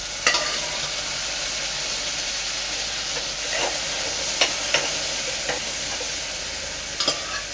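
Mixed vegetables including drumstick, capsicum, chili, eggplant and potato with tomato sizzling steadily in oil for daal, with occasional sharp clinks of a stirring utensil against the pan.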